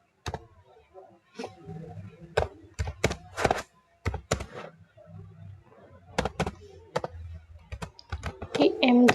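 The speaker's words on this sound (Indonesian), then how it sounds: "kita akan mengetik" Brisk typing on a computer keyboard while writing OpenCV code, bursts of clicking keystrokes broken by short pauses, with someone speaking over them.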